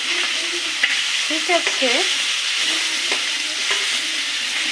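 Three snakehead fish heads fry with new potatoes in a home kitchen pan, a steady sizzle running throughout with scraping stirs of a spatula and a brief word spoken.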